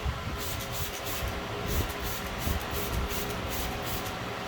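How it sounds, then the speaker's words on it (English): Chemical Guys Nonsense, a pH-neutral all-purpose cleaner diluted 5:1, hisses out of a spray bottle in a steady, close, broadband spray that lasts the whole stretch. "You got that sprayed on."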